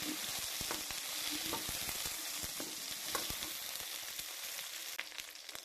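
Three dried red chillies frying in oil for cauliflower gravy, a steady crackling sizzle punctuated by frequent spatula taps and scrapes against the pan, close and even.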